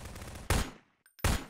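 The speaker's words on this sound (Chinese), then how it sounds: "各种枪声" Gunfire in the video game Garry's Mod, two loud, short bursts of shots separated by a brief lull, close and sharp with quick decays and no talk.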